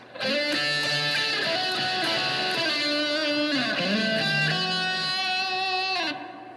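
A single guitar phrase from "God My Rock" of sustained notes with smooth slides between pitches, played alone and clearly, ringing out then stopping.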